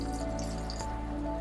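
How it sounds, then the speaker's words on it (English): Hot water poured into rock wool cubes prepared for basil seeds in a container farm, a steady close wet dripping and squishing over a constant hum. "fill in the rock wool with hot water"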